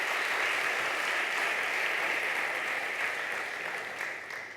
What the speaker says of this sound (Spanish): Un aplauso al Rey.